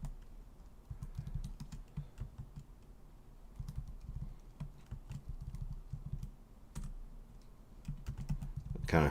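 Typing on a computer keyboard during shortcut-driven work: rapid, uneven bursts of close keystrokes with short pauses between runs, steady and moderately loud, with no talk.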